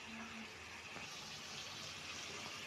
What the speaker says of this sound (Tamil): இதுலேருந்து தண்ணி வருது இல்லை மச்சி